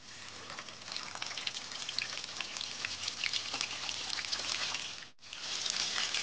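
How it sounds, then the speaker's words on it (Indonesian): Fish frying in hot cooking oil, a close, continuous crackle and spatter with a brief break near the end before the sizzling resumes. "Goreng ikan sampai berwarna kecoklatan."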